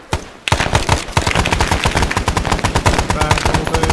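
Rapid automatic gunfire in the video game Arma 3, loud, close bursts that start after a brief quiet and keep hammering in a dense, steady rhythm to the end.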